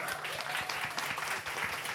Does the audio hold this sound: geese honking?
no